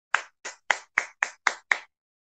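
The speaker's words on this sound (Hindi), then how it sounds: "आर्या के लिए एक बार जोरदार तालियां होनी चाहिए" Seven sharp hand claps at a musical show, evenly spaced about a quarter second apart and close by, each a crisp isolated smack rather than a dense crowd wash.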